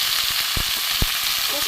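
Vegetable peels with eggplant and five-spice seasoning fry in a pan, making a steady sizzle with a few soft stirring knocks throughout.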